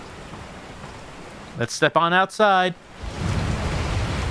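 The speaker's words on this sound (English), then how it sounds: "It's raining." Rain falling in the Resident Evil 4 video game: a steady broadband hiss that runs throughout, briefly interrupted by a voice speaking in the middle.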